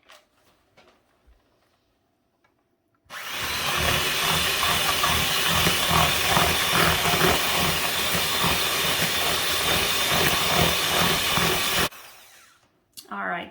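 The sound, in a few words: hand mixer mixing cookie dough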